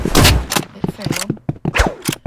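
Video game gunfire rings out in short, sharp bursts, several quick shots in a row with brief gaps, loud and close, mixed with bits of voice.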